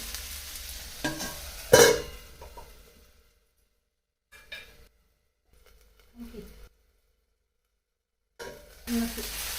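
Finely chopped potatoes steam in a pan while a spoon stirs them, making short scraping, sizzling bursts separated by quiet gaps, with one sharp clatter near the start.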